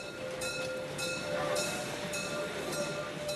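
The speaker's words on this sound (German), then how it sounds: "Vorbei am Bergsee bei Günthers Berge rattert das Zügle weiter." A narrow-gauge Selketalbahn train runs through the Harz mountains past a lake, a steady close rattle and rumble of the carriages with a faint periodic click, open-air cabrio car, no talk.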